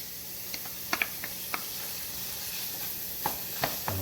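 Chopped red peppers sautéing in canola oil for Cuban picadillo, a soft steady sizzle with scattered sharp pops and spatula clicks, close and fairly quiet, no voices.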